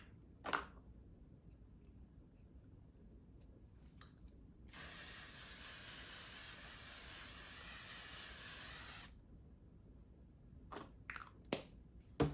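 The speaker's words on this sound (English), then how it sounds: "I'm gonna go ahead and spray my face and put my setting spray on" A single steady aerosol spray of makeup setting spray onto a face hisses for about four seconds, close and loud, with a few soft clicks and taps before and after.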